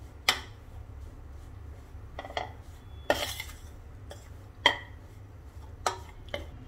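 Flour being stirred and roasted in a non-stick pan for Sindhi gond and dry fruit ladoos, with scattered sharp scrapes and clinks of the spoon against the pan over a low background hum.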